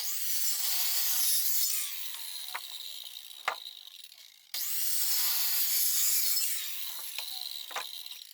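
Reciprocating saber saw cutting through a wooden foundation beam while building a frame shed, two sustained loud bursts of buzzing, rasping cutting separated by a brief pause, with a few sharp knocks as the blade works through.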